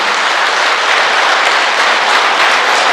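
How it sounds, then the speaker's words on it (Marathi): Loud, dense applause from a large audience honoring a kidney donor at a public talk, continuous clapping at full strength throughout without any voice over it. "पत्नी ह्या डोनरसाठी अशाच जोरात टाळ्या वाजवा"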